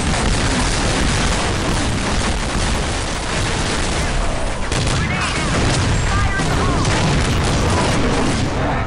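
Rapid shotgun blasts and heavy gunfire from Counter Strike Nexon, a dense, loud, continuous barrage of booms in a Zombie Z Italy match.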